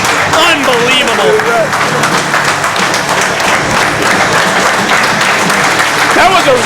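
A wrestling arena crowd gives a standing ovation after a Jason Hodge versus Silas Young match, with loud, sustained dense applause and crowd roar filling the space throughout, some cheering voices rising above it.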